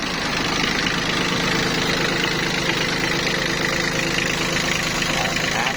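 An imported Japanese tractor with a 3-cylinder engine and four-wheel drive runs at a steady idle close by, a loud, even diesel rumble that continues without change.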